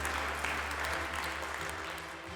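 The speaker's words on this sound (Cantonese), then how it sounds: "俾啲掌聲 Sam Sir" Applause from an audience at a school STEM award ceremony as a presenter is welcomed to the stage, an even wash of many hands clapping over a low steady hum.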